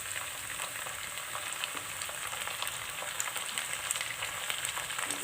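Onion, garlic and tomato fry in a pan with a continuous, even sizzle at moderate level, close by and uninterrupted, with no voices.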